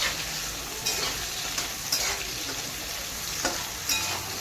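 Vegetables with capsicum and carrot are stir-fried for noodles, making a quiet steady sizzle with periodic spatula scrapes and taps against the pan, roughly one each second.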